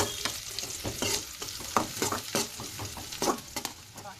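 Onions, cumin and green chillies fry in a pan for girmit, giving a steady loud sizzle broken by repeated scraping stirs, with no voices.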